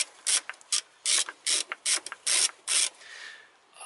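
A ratchet tool clicks in short, rhythmic bursts while loosening a bolt on a Toyota VVT-i engine, close and crisp, with no talking.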